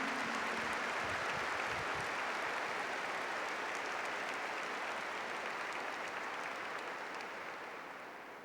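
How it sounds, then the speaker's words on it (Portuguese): A congregation at a Catholic prayer gathering claps for the Lord, a broad, sustained wash of applause that stays even and slowly fades toward the end. "Give the Lord a big clap for that."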